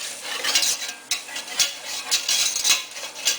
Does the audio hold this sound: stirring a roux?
yes